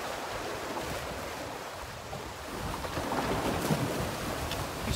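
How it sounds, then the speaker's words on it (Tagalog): Big waves washing and surging around a fishing spot off Talim Island, a steady rushing wash with wind across the microphone that builds slightly louder toward the end, with no voices. "Ang lalaki ng alon"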